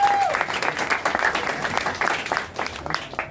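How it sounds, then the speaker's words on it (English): An audience at an English-language stand-up comedy gig breaks into close, lively applause and clapping that rises and falls, with some crowd murmur mixed in. "so I think that deserves an applause"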